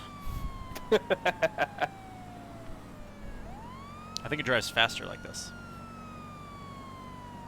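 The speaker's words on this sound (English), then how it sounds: "the sound of the sirens gives it a bit of speed boost" A police car siren wails in Grand Theft Auto Online, its tone sweeping down and back up, alongside sharp electronic beeps and bursts, with a voice talking over it.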